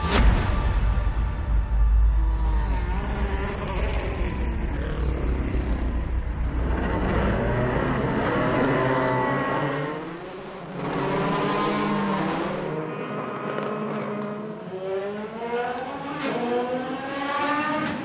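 Race cars at the start of the 2025 ELMS 4 Hours of Le Castellet in damp conditions, with loud engines roaring and passing close by, revving and fading, while voices and music sit underneath at times.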